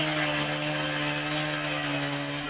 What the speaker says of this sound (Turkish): Demir testerenin kıvılcımları yansıyor kameraya.